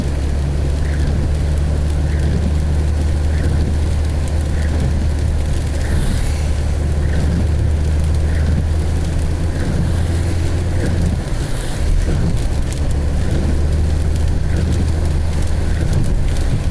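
Steady rain noise inside a vehicle driving a single-lane highway (SP-294) in wet conditions, a loud continuous wash with low engine and road rumble throughout and no speech.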